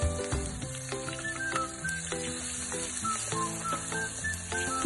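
Onions frying in a pan for pav bhaji, a steady bright sizzle with scattered clinks and scrapes of a utensil, close and moderately loud without talk.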